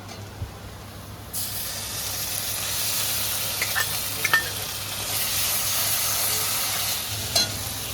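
Green chili, ginger and garlic paste hits hot oil in a frying pan with a sudden loud sizzle that settles into a steady hiss, with a few faint clinks of stirring.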